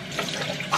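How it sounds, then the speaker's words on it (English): Tap water running into a kitchen sink while dishes are washed, a steady close splashing stream with small clinks and gurgles throughout. "Whenever I wash dishes, I always wash dishes for like a really abnormally long time"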